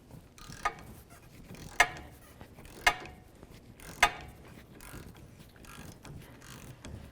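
Hand ratchet on a 14mm socket working loose the bolts of a 2005-2009 Subaru Outback during CV axle replacement: four sharp clicks spaced about a second apart, fairly close, over quiet workshop background with no talking.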